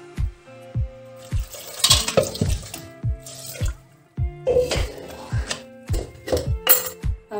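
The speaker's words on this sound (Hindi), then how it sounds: "अब हम पानी मिलाएंगे।" Water runs and splashes in short bursts into a cooking pot of dal and vegetables for sambar, with clinks and knocks of utensils between pours, close by.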